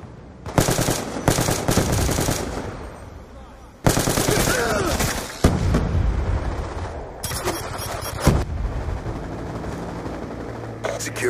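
A Death Machine minigun in a shooter video game fires in long rapid bursts, dense loud rattling broken by short pauses, with game voice callouts mixed in.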